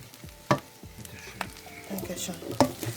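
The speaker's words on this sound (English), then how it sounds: "fried rice is currently cooking" Fried rice sizzles in a pan while a utensil stirs and knocks against the metal, with a steady frying hiss and a few sharp clinks close up.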